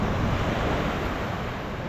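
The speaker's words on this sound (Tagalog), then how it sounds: "Ang lakas pala ng alon." Strong ocean waves break on the shore of Jomalig island, a continuous loud broadband rush of surf mixed with wind buffeting the microphone, with no speech.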